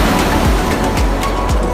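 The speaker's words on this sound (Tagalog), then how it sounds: "Wow, ang ganda man ng alon-alon." Ocean waves at Baluarte in Luna, La Union wash onto the shore in a loud, continuous roar of surf, heard close with no talk over it.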